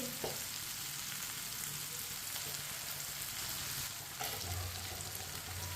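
Okra (bhindi) frying in a pan over a low flame, a steady soft sizzle and crackle of hot oil that runs on evenly throughout, close up, with no speech.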